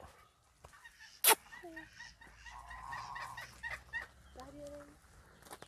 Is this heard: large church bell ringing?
no